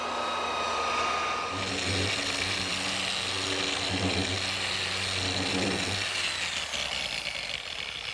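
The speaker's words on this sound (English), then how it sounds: "They've had sanders like this in the auto body business for years, run by Air, random orbit sanders" An air-powered random orbit sander runs steadily on a wooden harvest table top, a continuous close whirring hum with a shifting tone as it moves across the glued-up boards, with no voices.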